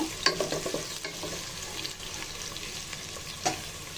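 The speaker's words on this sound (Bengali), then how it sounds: "এলাচ দারচিনি লং তেজপাতা দিয়ে পেঁয়াজটা একসাথে ভেজে দিব" Onion fries with cardamom, cinnamon, cloves and bay leaf in hot oil, giving a steady soft sizzle broken by scraping stir strokes, close and moderately quiet, with no voices.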